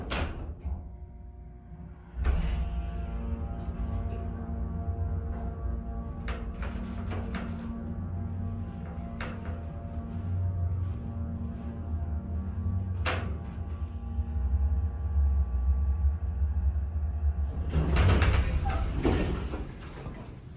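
A pristine hydraulic elevator motor and pump unit at the Marriott Center for Dance, University of Utah, hums steadily and low, with faint mechanical clicks and a rise in noise near the end as the car moves.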